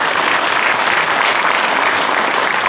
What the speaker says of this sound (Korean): 우리 다 같이 두 분에게 박수 한번 부탁드립니다